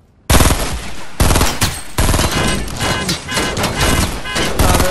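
Rapid automatic gunfire from Fortnite erupts suddenly and keeps going in dense, loud bursts with short gaps, close and dominating, with no talk over it.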